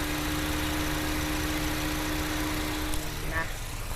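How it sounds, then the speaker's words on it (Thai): A four-cylinder car engine idles smoothly and quietly up close, a steady low hum with a few small clicks and shifts near the end. "เป็นเครื่องยนต์สี่สูบนะห้องเครื่องนิ่งมากนะครับเสียงค่อนข้างเงียบนะเดี๋ยวลองฟังเสียงกันสักเล็กน้อยนะครับ"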